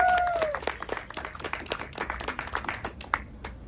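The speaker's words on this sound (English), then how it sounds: "Let's just give them a round of applause right now." Audience clapping for panelists at a sustainability-in-film-production panel talk, a moderate burst of applause that tapers over a few seconds, with scattered individual claps near the end.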